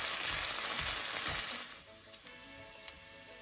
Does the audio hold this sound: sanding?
no